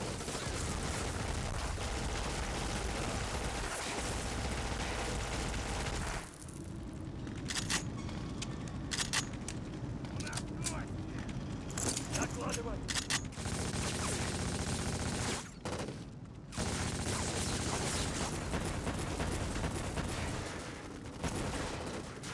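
Sustained gunfire from the shooter game Black in the Tivliz Asylum level, dense rattling bursts of automatic and single shots filling the whole stretch, loud and continuous with brief gaps.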